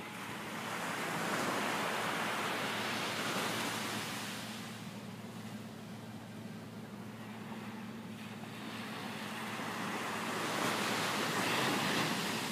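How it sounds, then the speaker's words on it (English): Ocean surf rolling onto the shore at Cabo San Lucas, Mexico, a steady broad wash that swells and recedes in slow surges, with some wind noise and no voices. "I'll leave you guys with a little bit of ocean scenery."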